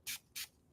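Two quick hissing bursts from a Tower 28 antimicrobial face spray bottle, each a short close pump of mist with a brief gap between.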